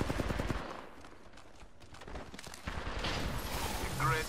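Gunfire from Apex Legends, a 3v3 match with Rampart: rapid automatic shots crackle near and loud at first, then continue as a busy battle din under a speaking voice.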